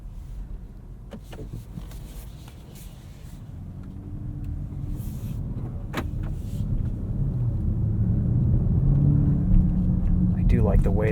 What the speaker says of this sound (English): I do like the way this V8 just kind of bellows away in the background. Makes a good sound.